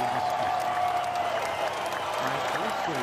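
A studio crowd applauds in a steady, continuous patter with talk heard over it.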